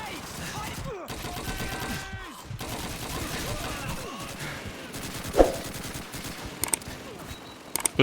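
Rapid rifle fire bursts in the Call of Duty 2 video game, with repeated fast volleys and sharp isolated shots over in-game battle noise and a voice talking underneath.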